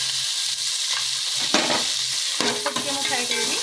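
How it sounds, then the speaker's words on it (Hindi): Cashews, almonds and yellow peas fry in a pan, with a steady close sizzle and occasional stirring clatter against the pan. "ऑलरेडी मु काजू बादाम को भाजी के रखी दे छी, तापर मु येलो मटर को फ्राई करने भी"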